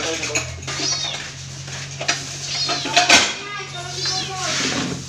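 A cat meows several times near a home kitchen, mixed with children's voices, adult talk and the clink of dishes and cutlery.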